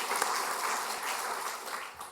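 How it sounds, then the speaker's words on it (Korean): A church congregation at a Korean Parents' Sunday service applauds together, a brief, even spatter of many hands that sounds soft and somewhat distant, with no speech on top. "부모님들께 우리 감사의 박수 한번 하도록 하겠습니다"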